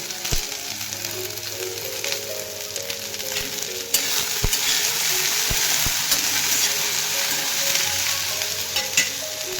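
Chili, turmeric and salt frying in a pan, a loud constant sizzle with scattered pops and occasional clinks of a utensil against the pan, no voices.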